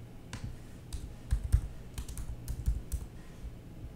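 Typing on a computer keyboard while entering a street address: quick, uneven bursts of close, crisp key clicks with short pauses between them, heard on their own.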